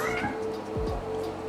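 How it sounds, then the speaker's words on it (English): A pet house cat meows indoors in a few short, close cries near the start and middle, over steady background hum with no talk. "Sorry, my kitty cat"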